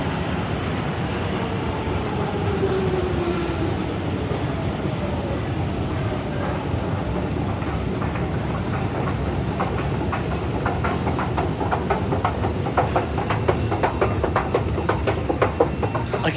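A train rumbling through Canary Wharf station on the London Underground, a steady continuous roar with clickety-clack wheel rhythm building toward the end, heard close and loud throughout with no talk.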